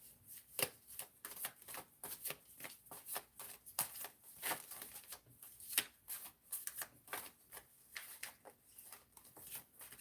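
Tarot cards are shuffled continuously in quick, rhythmic riffles and taps, close but quiet, with no talking.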